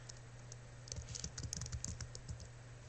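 Someone types a search into a computer keyboard, giving a quick, faint run of key clicks in an otherwise quiet room, with no one talking.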